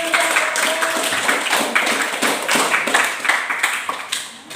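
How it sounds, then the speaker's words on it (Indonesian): A classroom of students claps together for a classmate during a physics lesson, a loud, close patter of many hands with irregular accents running throughout. "Farel, beri tepuk tangan."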